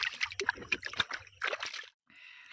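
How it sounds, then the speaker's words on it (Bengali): Water splashes and trickles as banana leaves are rinsed in a village pond, irregular sloshing bursts close by, stopping briefly near the end before resuming softly. "পাতাটা এবার ধুয়ে নেব, পুকুর থেকে প্রথমে ধুয়ে নেব"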